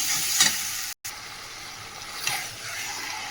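Ginger garlic paste stirred and fried in hot oil in a pan, giving a steady close sizzle with a few brief stirring scrapes and one short break, and no talking.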